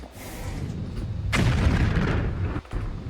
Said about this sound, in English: you fire the rocket, and everything is nice and dandy